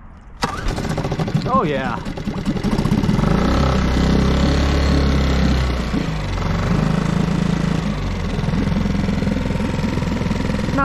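Suzuki 6 horsepower outboard motor on a kayak starts with a pull, catches and settles into a loud, steady nearby idle, with someone speaking briefly over it.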